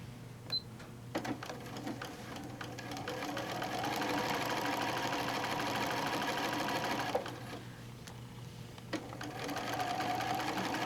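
A sewing machine runs steadily while top stitching a fabric placemat about an eighth of an inch from the edge, a continuous close whir that pauses briefly near seven seconds and then resumes.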